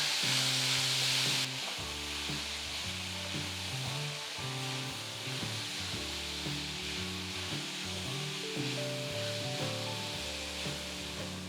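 Chopped onion sautéing in a pan until light brown for keema peas masala, a steady loud sizzle and frying hiss with occasional stirring scrapes, heard alone without talk.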